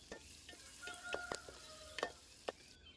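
Boiled chicken pieces stirred in a pan while cooking pineapple seafood fried rice: a quiet, close sizzle broken by several sharp scrapes and clinks of a spatula against the pan, with a few faint tonal rings.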